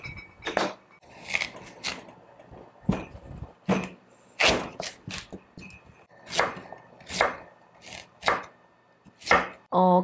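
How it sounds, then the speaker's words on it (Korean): A knife chops homegrown radish on a cutting board for a fish soup, giving a series of sharp, close, irregular thuds spaced about a second apart with quiet gaps between. "가로 세로로 이렇게 썰으셔도 상관없어요."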